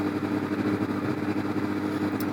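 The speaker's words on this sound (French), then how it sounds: "On va essayer le CBR 1000 RR Fireblade 2018." A 2018 Honda CBR 1000 RR Fireblade sport motorcycle runs with a steady, throbbing engine note heard close up, with a faint brief high tick near the end.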